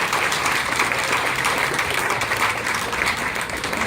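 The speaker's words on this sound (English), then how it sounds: "every healthcare provider, including St. John's, should again get a round of applause" An audience applauds steadily at an assembly member's public event, a continuous dense wash of many hands clapping that holds at an even level throughout.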